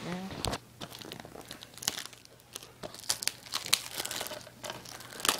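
A knife slices open the plastic wrapping on a Forza Horizon game box, giving close, loud crinkling and tearing in irregular bursts for several seconds, with a faint low hum underneath.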